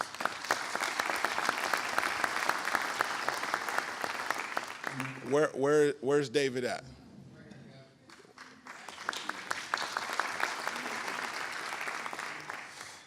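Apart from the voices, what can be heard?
audience applause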